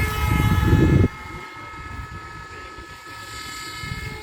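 An RC MiG 21 model jet plane passes close while coming in to land; a loud whooshing rush cuts off abruptly after about a second, leaving a fainter steady whine from the motor.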